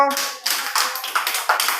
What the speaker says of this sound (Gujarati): તો ચાલો, તાળી પાડો.